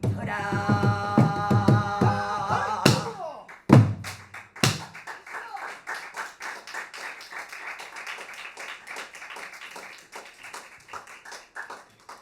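Applause at a traditional Korean music concert, first mixed with fading instrumental music and a few sharp thumps, then a long run of dense, even clapping from a moderately distant audience.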